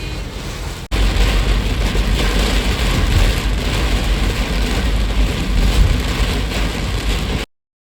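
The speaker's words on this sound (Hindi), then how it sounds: "बट इतनी बारिश हो रही है" Heavy rain pours down at a temple festival in Goa, India, in a steady, dense hiss, starting abruptly after a moment of quieter sound and continuing loudly until it cuts off.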